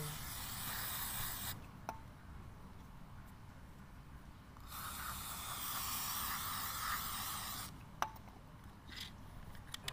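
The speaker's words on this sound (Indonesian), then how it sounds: "Kita semprot lagi." Cleaner sprayed onto the air intake of a Toyota Etios taxi during a service, a close, steady hissing in long bursts with short gaps and a couple of sharp clicks.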